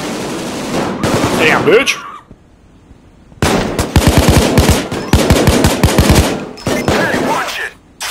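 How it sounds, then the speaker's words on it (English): Loud, rapid bursts of automatic gunfire in the Payday 2 video game, several volleys separated by a short lull, with a shouted voice over the first burst. "Gun shooting and the bloody civilians still standing there."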